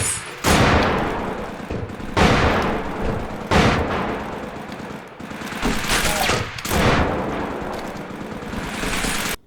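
A game explosion sound cue in Unreal Engine 4 with an audio mix applied fires as a series of heavy booming blasts, each hitting hard and rumbling away, repeated several times at uneven intervals.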